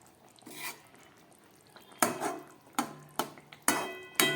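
A lid lifted off a pot of thin Bata fish curry with potatoes, giving a series of sharp metallic clanks and clatters, one soft scrape early on followed by five distinct knocks at intervals, close and clear with no talk.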